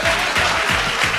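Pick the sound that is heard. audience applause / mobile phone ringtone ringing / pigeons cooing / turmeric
audience applause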